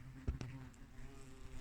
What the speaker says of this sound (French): il y a un frelon qui vient voir comment je m'appelle